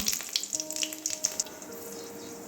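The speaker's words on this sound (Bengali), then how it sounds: "এবারে তেল ঢেলে নিচ্ছি কড়াইয়ে লঙ্কা সাদা জিরে দিয়ে দিলাম" Green chili and cumin seeds sizzling in hot oil in a wok: a steady, close crackling fry with scattered sharp pops throughout, no voices.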